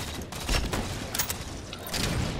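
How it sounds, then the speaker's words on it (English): Gunfire in Halo 4 multiplayer on the map Abandon: several bursts of shots crack out in quick succession, moderately loud with a low rumbling bed, and no one talks. "They're kind of shooting around here"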